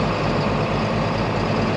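A tractor engine idles close and loud, holding a steady low rumble with a faint rhythmic pulse and no voices.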